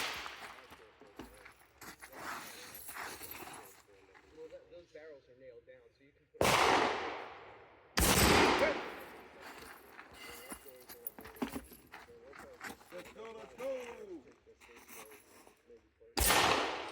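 Pistol shots on a two-gun competition shooting stage: sharp, loud cracks, three standing out clearly with gaps between them, while a person talks steadily between shots.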